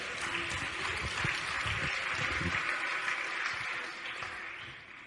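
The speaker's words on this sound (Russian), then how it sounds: "Дайте ему аплодисменты за эту истину." Audience applause at a Russian-language talk on financial knowledge, a dense steady wash of many hands clapping that holds through the whole stretch and eases slightly near the end.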